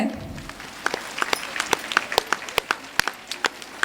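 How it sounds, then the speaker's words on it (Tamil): Sparse clapping at a girls' school annual day, a few individual claps, close and sharp, spaced irregularly after a brief murmur at the start. "இருக்கிறவங்கெல்லாம் கைத்தட்டுங்க."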